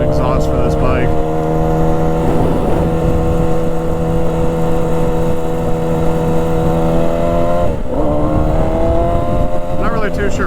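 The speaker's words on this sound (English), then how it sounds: "We desperately need to get an exhaust for this bike." A Yamaha R1 motorcycle with its stock exhaust idles close by in a loud, steady drone, with a brief dip in pitch partway through and no clear revving.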